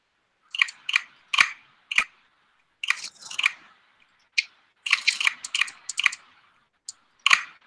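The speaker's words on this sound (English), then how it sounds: "And I'll shuffle the decks quickly." Decks of game cards for the board game Tradewarz being shuffled: a string of sharp, crisp riffling bursts in short clusters with brief pauses between, close and clear with no talking.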